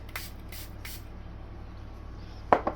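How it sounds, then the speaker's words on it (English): Three quick hissing spray bursts onto picked raspberries near the start, then a short sharp knock near the end over a steady low background hum. "And we will spray it."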